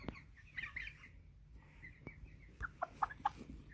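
A few soft clucks and short squawks from a nearby American Bresse hen in a quiet setting, brief bursts scattered over a few seconds.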